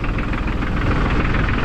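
A New Holland TC33D compact tractor engine idles nearby, a steady low rumble with mild knocking vibration and wind noise, no speech.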